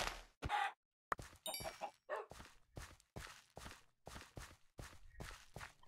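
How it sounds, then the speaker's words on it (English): Minecraft wolf puppy yipping in short, sharp barks amid a regular series of soft game footsteps, quiet, evenly spaced sounds separated by brief silences. "There's a puppy."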